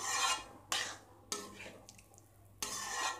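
Lentils are stirred into sambar in a cooking pot with a spoon, giving several scraping, rasping strokes against the metal in an uneven rhythm, close and fairly quiet, with no talking.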